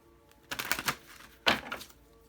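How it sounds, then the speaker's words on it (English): Tarot cards slide and snap as they are pulled from a deck, two quick papery bursts of shuffling close to the microphone with silence between them. "let me go ahead and pull some more cards just to see if we could clarify a little bit more"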